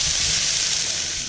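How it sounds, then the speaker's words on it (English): A steady, bright hiss of vegetables frying in a hot pan, continuous and close, fading slightly at the end. "The first part is basically just frying the vegetables until they're starting to soften and get brown"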